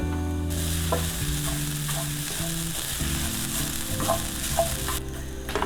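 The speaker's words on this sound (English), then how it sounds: "now we need to dry roast this as well" Freshly grated coconut and garlic flakes dry roast in a pan, producing a continuous soft sizzle with repeated stirring scrapes and a low hum beneath, no voices.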